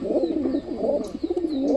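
Pigeons coo in low, rolling, repeated phrases, close and clear, with one or two faint high chirps in the background.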